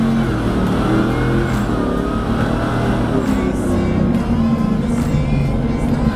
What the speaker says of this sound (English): This truck has some engine modifications as well, which includes a supercharger, bringing this truck to 900 horsepower.